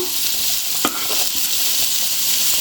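Vegetables with kuthiraivali millet sauté over a low flame, a steady close sizzle broken by a sharp scrape of a spoon against the pan and softer stirring sounds after it.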